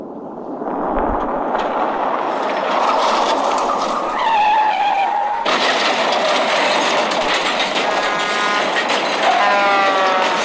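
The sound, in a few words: car skidding and crashing into a pileup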